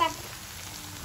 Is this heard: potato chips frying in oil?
yes